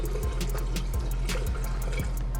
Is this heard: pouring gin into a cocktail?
yes